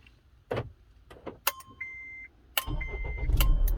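A Honda/Acura car started by a newly installed remote starter: a couple of chirps and a click, then the engine cranks and catches and settles into a steady idle up close.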